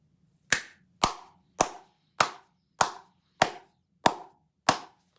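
A single person claps eight times in a slow, even rhythm, each sharp clap crisp and close with a short decay, with silence between.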